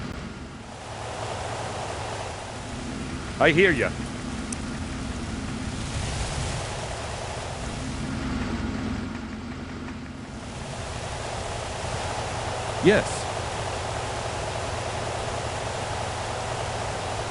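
A firefighter's water hose sprays steadily onto a fire in the Fire Department 3 video game. The hiss of water is a constant broadband wash, and brief voiced acknowledgements come through twice.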